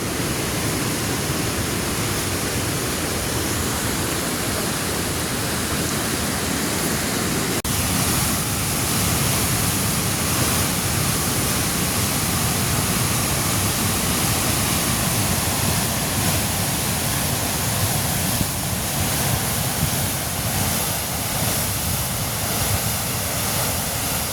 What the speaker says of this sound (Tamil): எவ்வளோ தண்ணி வந்து திறந்து விட்ருக்கீங்க